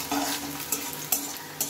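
Onions with two dried chillies fry and get stirred in a pan over high gas, a steady loud sizzle with several quick scraping strokes of the spatula, close up and with no talk.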